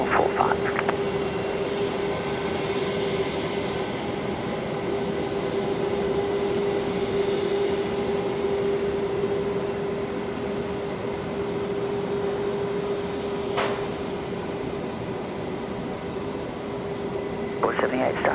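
An Airbus A380 airliner's engines drone steadily at Brisbane Airport, a sustained distant roar with a steady tone running through it and brief clicks near the end.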